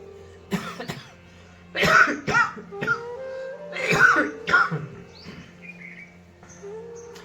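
Several coughs and throat-clearing bursts in two clusters during a yoga throat exercise, fairly close, with quieter breathy pauses between them.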